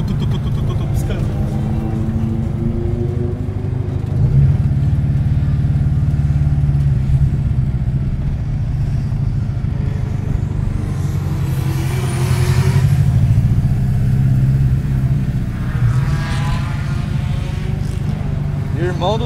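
A turbocharged Chevrolet Corsa 1.8 at a racetrack runs with a steady low engine drone, swelling louder at moments, while people talk nearby throughout.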